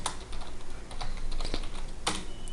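Typing on a computer keyboard while entering room details into Revit software, a close run of quick irregular key clicks with a couple of sharper taps, no voice.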